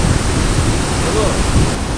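Rushing mountain river water near Mana village in Uttarakhand, a loud, steady broadband roar that stays close and unbroken for the whole stretch.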